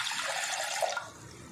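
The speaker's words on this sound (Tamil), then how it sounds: "1 கப் பச்சை பயிருக்கு 2 கப் அளவுக்கு தண்ணி சேர்த்துக்கோங்க." Water pours steadily into a pressure cooker holding green moong dal for payasam, a close, continuous splashing rush with no talk.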